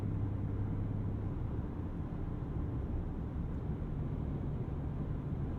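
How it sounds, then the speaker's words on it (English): A GMC Sierra Denali Ultimate diesel pickup coasting at highway speed, heard from inside as a steady low rumble of engine and road noise, smooth and subdued with no talking. "Unless you're really laying it in on the throttle, the diesel motor is just so subdued."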